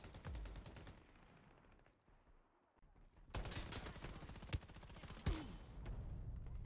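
Submachine gun bursts in the video game Shatterline, rapid automatic fire in several loud runs with brief pauses and a few sharp single cracks, no talking.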